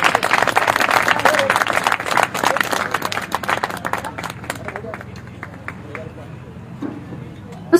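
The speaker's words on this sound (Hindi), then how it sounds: "आप सबके जोरदार तालियों के बीच में माइक्रोफोन दे रहा हूं" Loud audience applause at a company programme as the microphone is handed to the CEO, dense clapping that gradually thins and fades with some crowd murmur.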